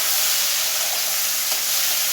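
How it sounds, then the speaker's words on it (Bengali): Spice paste for Bengali egg curry sizzles in hot oil as it is stirred, giving a steady, close, loud hiss that holds without a break. "এবার মশলাটাকে ভালো করে কষিয়ে নেব। এমনভাবে কষাবো যাতে তেল ছেড়ে আসে।"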